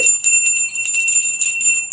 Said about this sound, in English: I just gotta ring the bell.